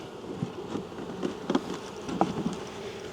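Honey bees buzz steadily around an open hive in winter, a dense low hum with scattered louder passes of individual bees close by, no talking.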